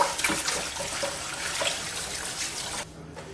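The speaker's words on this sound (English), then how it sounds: "I like to put them in a pan and then use a brush to get all the dirt, little pieces of skin off" Potatoes are scrubbed with a brush in a pan of water to strip dirt and bits of skin, making a steady wet swishing and splashing up close that stops abruptly just before the end.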